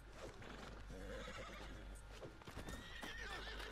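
A horse in the Red Dead Redemption 2 video game whinnies with a rising neigh while hooves clip-clop faintly underneath, all quiet and low in level.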